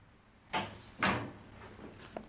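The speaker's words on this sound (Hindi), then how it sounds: "मैंने दरवाजे की आवाज़ सुनी" A wooden door or drawer opens and shuts indoors in a domestic drama scene, with two firm thuds about half a second apart followed by a faint click, close and moderately loud, with no talking.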